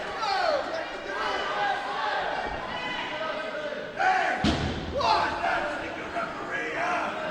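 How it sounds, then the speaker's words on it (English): A wrestler kicked out of the ring lands hard on the floor with a single heavy thud at a wrestling match between two wrestlers, in front of a murmuring crowd with steady commentary talk throughout. "That was a big thud."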